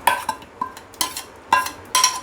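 A few bursts of stirring and scraping as ground onion paste is added to a metal pot of Indian gravy, irregular clinks and wet shuffling, close by with no talking.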